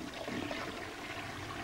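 A water closet toilet flushing, a steady rushing wash of water that fills the whole short stretch at an even level, heard close and with no voices.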